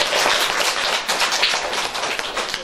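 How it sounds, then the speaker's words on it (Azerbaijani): Small children applauding at a nursery Novruz spring celebration in Azerbaijan, a brisk dense patter of many small hands clapping close by, steady and unbroken with no talk over it. "Özünüzü alqışlayın bir."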